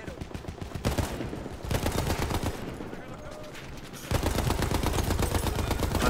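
In the video game Battlefield 1, machine gun fire rattles out in dense rapid bursts, pausing briefly between volleys, loud and close, with a voice talking over it.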